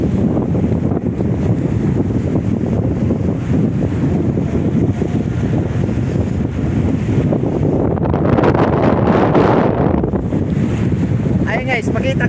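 Strong seaside wind roars continuously and loudly, buffeting the microphone, with waves rumbling underneath and gusts swelling near the end.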